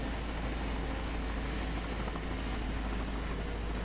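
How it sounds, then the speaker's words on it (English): Helicopter in Farming Simulator 17 passing overhead, a steady broadband rotor-and-engine drone that holds loud and even across the whole stretch, with no talk over it. "Oh, I hear a helicopter."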